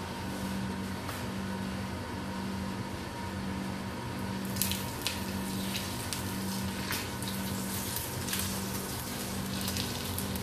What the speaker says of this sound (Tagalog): Ito po, mainit na po siya. Siya po ay ating ibubuhos sa ating isda.